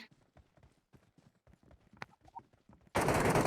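Sudden loud, sustained burst of automatic gunfire in the Metro Royale mode of a battle-royale shooter, cutting in at the end after a run of quiet, scattered footsteps and clicks.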